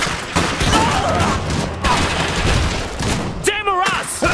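Rapid bursts of gunfire from an Iron Harvest battle crackle loudly and continuously, a dense fusillade layered under shouted voices, with a short whistling burst near the end.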